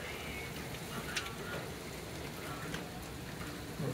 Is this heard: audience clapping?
no